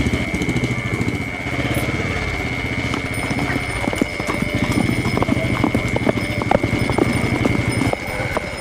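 Horse hooves clip-clop steadily and loudly on hard ground throughout, a continuous rhythmic trot over a constant background tone in a Tamil drama scene.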